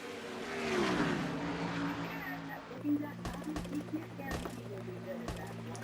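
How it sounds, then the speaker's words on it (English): Pontiac Grand Prix race car engine accelerating in a racing video game, a rising engine drone that levels into a steady hum with a few sharp knocks, under a commentator's voice. "Matthews floors the throttle on that Grand Prix, and he's going to take the lead from Shelton at the line"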